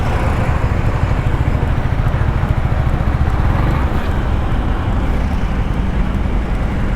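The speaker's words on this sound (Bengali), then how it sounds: "অটো আসলে দেখেন এই যে কাশপুর ব্রিজের ওপর অটো উঠতেছে" Auto-rickshaws and traffic crossing the Kashpur bridge, a loud continuous rumble of engines and road noise with wind buffeting the microphone throughout.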